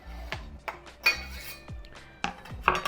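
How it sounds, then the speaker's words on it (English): A pan of spicy Korean topokki rice cakes with green onion is stirred, giving irregular metallic clinks and scrapes of a utensil against the pan, with a few sharper knocks between quieter stretches. "Give it a little bit of a stir."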